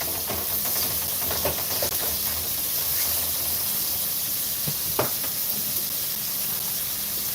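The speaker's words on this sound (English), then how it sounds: "I'm just sauteing all the fresh seasoning." Fresh seasoning sautéing in a Dutch pot, heard as a dense, steady hiss of frying throughout with a few faint clicks and one brief knock of a utensil.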